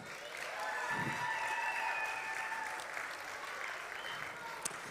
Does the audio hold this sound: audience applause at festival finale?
yes